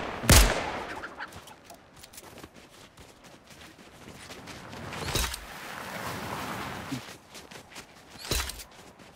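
Chickens clucking in the video game Fortnite, scattered short clucks mixed with sharp bursts of in-game gunfire and rustling movement, no talk over them.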